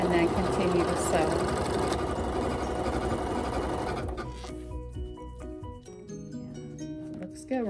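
A sewing machine stitches the sashing of a quilt, a steady loud mechanical whir for about four seconds, then slows into sparse individual clicking stitches as it stops.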